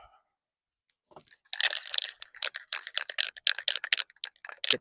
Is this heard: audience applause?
no